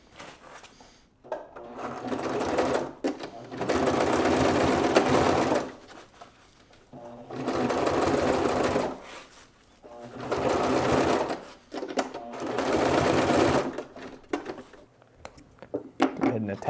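A sewing machine stitches the fabric of a bag harness in four long, loud bursts of rapid mechanical chatter, with short pauses and faint handling noises between runs.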